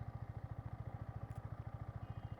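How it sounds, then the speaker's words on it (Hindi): Yamaha MT15 motorcycle engine running at a steady idle, a fast, even low-pitched thumping pulse that stays constant throughout with no voices. "तो पहले बाइक को स्टार्ट कर लेते हैं"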